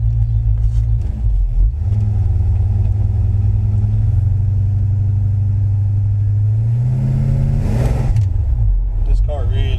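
A 1957 Chevy Bel Air with power disc brakes and manual steering gives a loud, steady low engine rumble that climbs as it accelerates, with a brief rise near the end.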